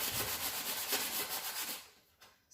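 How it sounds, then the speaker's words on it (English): A small scrub rubs back and forth across a stove top in steady, close abrasive strokes, then stops near the end, leaving a faint quiet tail. "I'm gonna use this little scrub and see how it comes out"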